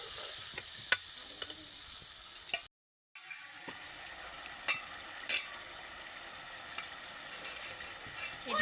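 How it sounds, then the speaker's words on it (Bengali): Masala loosened with a little water sizzles as it cooks down for palak chicken, a steady soft frying hiss with a few clicks of a spoon and one brief silent gap. "এইবার মশলাটা কষানো হওয়ার জন্য সময় দেব"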